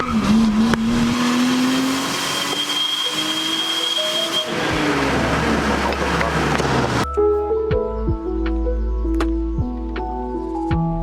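A Nissan Skyline with an RB25 turbo engine revs close by, its pitch climbing and dropping in sweeps before the sound abruptly changes to a steadier, more tonal drone partway through.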